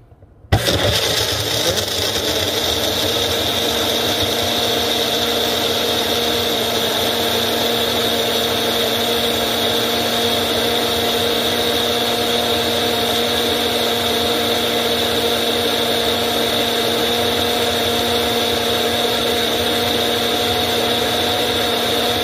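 A blender making a smoothie starts up abruptly and runs at a loud, steady high-pitched whir for a long stretch without pause.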